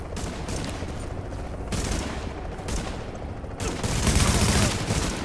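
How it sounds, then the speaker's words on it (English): Gunfire from The Division video game comes in dense, rapid bursts, several volleys of shots crackling in quick succession and swelling louder toward the end. "shot him point blank 3 or 4 times"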